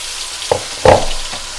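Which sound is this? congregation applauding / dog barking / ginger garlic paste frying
ginger garlic paste frying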